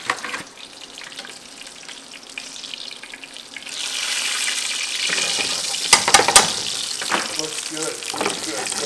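Steady sizzling of breaded venison pan frying in hot oil, with crackling pops growing busier partway through and faint kitchen clatter.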